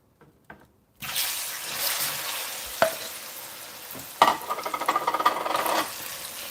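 Plantain slices drop into hot oil and sizzle loudly and steadily up close, with a clink of a utensil and a run of quick scraping stirs toward the end, after a brief quiet start.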